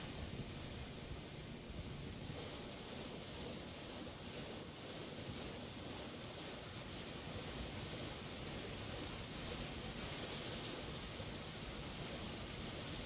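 Rushing water by a waterfall in the video game Elden Ring, a constant broadband roar that holds steady and fairly faint throughout, with no talking.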